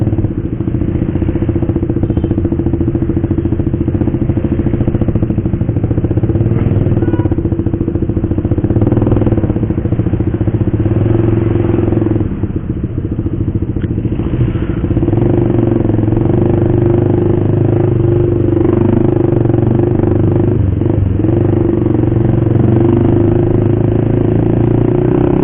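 A motorcycle fitted with a loud racing exhaust revs and rumbles continuously up close, its throaty drone rising and falling with the throttle for the whole stretch.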